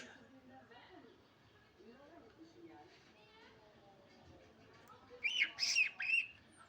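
A small bird squawks and chirps in a short burst near the end, after quieter stretches of nearby people talking.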